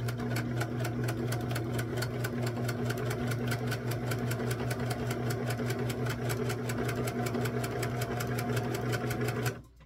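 A sewing machine stitches a quilt seam on a mini kite quilt, running at a steady fast pace with evenly spaced mechanical ticks over a low motor hum, close and continuous until it stops at the very end.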